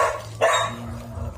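A single short dog bark sounds close by over a low background hum.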